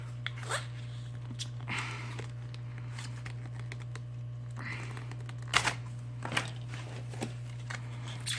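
Business cards scraped and pried along the glue edge beneath a Samsung Galaxy S7 screen, giving scattered close crackling clicks and scratches over a constant low hum, with no talking.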